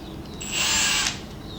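A power drill drives a screw into a wooden trellis in one brief, close whir that rises, holds for about half a second, and winds down.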